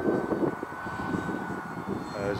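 A small plane's engine drones steadily in flight through gusty, blustery wind, a continuous mid-level hum with some turbulence in the tone, heard up close from inside the cabin.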